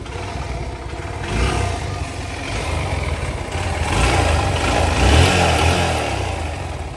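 A second-hand motorcycle engine runs steadily and rises in pitch as it revs a couple of times, loud and close, with no voices.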